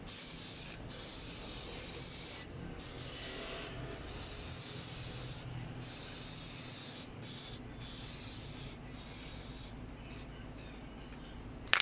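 Cleaner spray hisses steadily onto the engine bay parts of a Toyota Corolla Altis ZR-series engine during cylinder head work, a long continuous close spray broken by several brief pauses.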